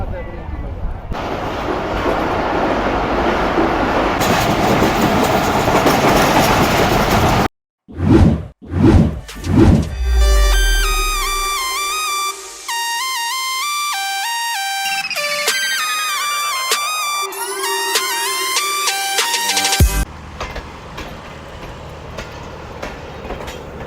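Rehman Baba Express train running at speed, a loud rushing rumble and whoosh, then sharp passing thumps and a burst of rapidly shifting tonal screeching and clatter before the steady rumble returns.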